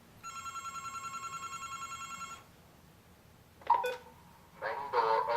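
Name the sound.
alarm dialer calling out on the phone line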